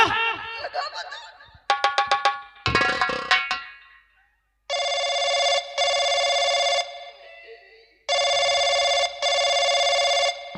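Electronic ringing tones sound in repeated bursts, following earlier jangly chime patterns, loud and close with short gaps between rings.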